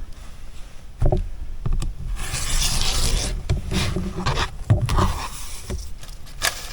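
Fabric strip being cut for a quilted sweatshirt, close rasping and scraping strokes in irregular bursts with soft thumps, no talking.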